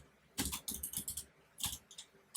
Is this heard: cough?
no